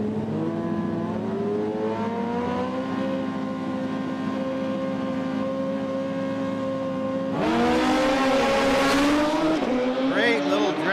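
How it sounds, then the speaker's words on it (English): Drag race cars on a 1/8-mile strip roar down the track with a loud, sustained engine drone that shifts in pitch, then swells into a rough, higher blast as they accelerate hard. "Great little drag race right here."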